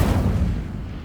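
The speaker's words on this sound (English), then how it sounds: "Incendio." Casting the Incendio fire spell in Hogwarts Legacy gives a single loud, close burst of flame that booms at the start and then rumbles away within a second.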